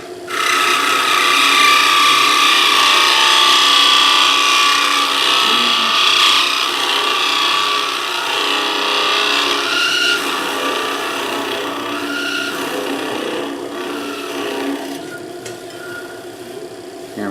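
Lathe parting tool cutting into spinning wood on a hollow Christmas ornament, a loud continuous scraping, rasping whir up close that gradually eases in intensity, with no talk.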